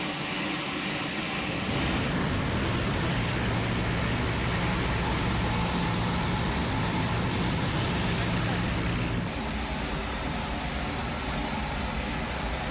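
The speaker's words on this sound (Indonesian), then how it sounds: "Pesawat Hercules A1318 juga tiba di Lanut Sultan Iskandar Muda" A Hercules A1318 military transport aircraft runs at Lanut Sultan Iskandar Muda airbase in Aceh Besar, its engines a steady loud drone with propeller hum throughout, while a voice talks over it.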